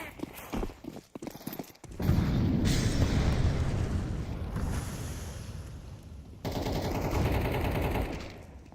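Rapid automatic gunfire and explosions in a CS:GO-style competitive shooter match, loud bursts with a brief lull before a sustained dense barrage and another burst near the end.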